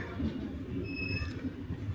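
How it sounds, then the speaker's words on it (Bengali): A train pulls away from a station platform with a low, steady rumble of wheels and faint squeals, heard at a moderate distance and fairly quiet. "ট্রেনটা কিন্তু তোমার চলে যাচ্ছে।"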